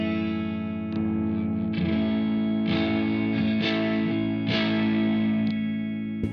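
Electric guitar played through an amp with a Mojo Mojo overdrive pedal engaged, giving a sustained distorted tone with repeated picked chords and note changes, alone and fairly loud throughout.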